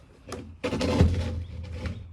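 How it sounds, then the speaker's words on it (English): A fiberglass shower door aboard an abandoned catamaran is handled and shifted, giving a few close knocks and a longer rubbing, sliding rumble with no talking. "so right here is my shower door."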